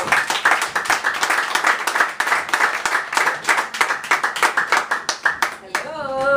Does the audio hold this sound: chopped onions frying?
no